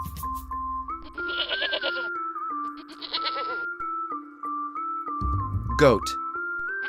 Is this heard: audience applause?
no